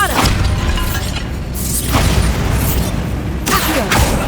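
Bombarda blasting spells in Hogwarts Legacy go off near a pile of bones by a sarcophagus, several loud booming blasts with crumbling debris and crashing over a dense rumbling bed.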